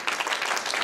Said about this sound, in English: A hand for Nick. Somebody start clapping.